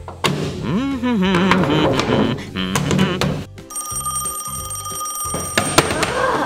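A telephone bell rings repeatedly in a pretend mechanic's garage during kids' play, a bright insistent ringing loud in the foreground while children's voices and squeaky playful sounds run alongside.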